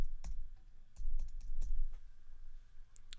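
A domain name is typed on a computer keyboard, with a quick run of close key clicks in two or three clusters against a quiet background, no talking.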